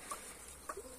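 Chickens give a few faint, brief clucks and peeps in a quiet coop, with short calls scattered over about a second.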